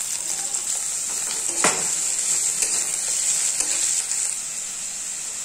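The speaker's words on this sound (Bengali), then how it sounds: "এখন এটাকে ভালো করে আমি ভাজা ভাজা করে নেব 3-4 মিনিটের জন্য" A handful of garlic cloves and onion fry in a pan with seasoning, giving a steady bright sizzle and occasional stirring scrapes, close and continuous without talk.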